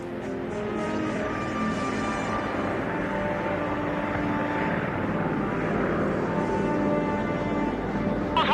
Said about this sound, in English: Daryl and the others take off from Thule.